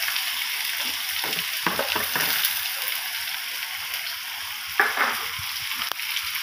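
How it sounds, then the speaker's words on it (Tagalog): Onions sautéing in a pan for sisig: a continuous close, loud sizzle and hiss with a few light stirring scrapes, and no one speaking. "sunod ko naman ito yung gisa yung sibuyas"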